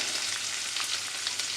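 Garlic, ginger and green chili fry in a pan for a radish chicken dish, giving a steady, close sizzle with scattered crackles and pops and no talk over it.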